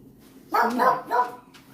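A disabled dog indoors lets out two loud, close, strained barks that trail into whimpering whines, with a quiet room before and after.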